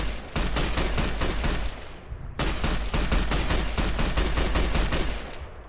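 Rapid automatic gunfire in Fallout New Vegas, two long loud bursts of evenly spaced shots separated by a split-second break, close and continuous with no talk.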